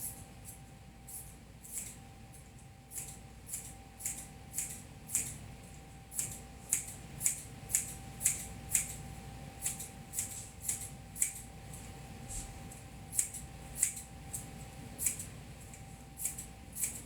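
Foam is being cut with a pair of cheap scissors, giving a series of crisp snipping clicks at a quick, fairly regular pace, close and quiet in an otherwise still room.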